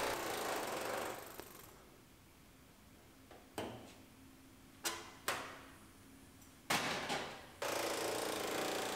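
Loud bursts of a power tool cutting a metal body panel of a 2018 GMC Sierra Denali pickup, several separate runs of a few seconds each with quieter gaps between them.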